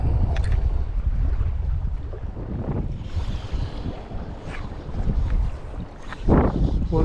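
Wind gusts across Ladybower reservoir, buffeting the microphone in uneven low rushes that swell and ease, with faint water lapping beneath.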